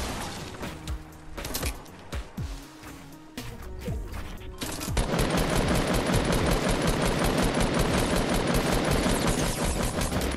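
Rapid automatic gunfire from a Fortnite battle royale match, starting as scattered shots and mechanical clatter before a dense, continuous burst of fire takes over for the second half, loud and close.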